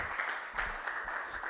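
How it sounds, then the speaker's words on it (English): An audience applauds after a stakeholder dialogue on the future of work, with a steady, moderately distant patter of many hands clapping that holds evenly for the whole stretch. "Let's clap for her."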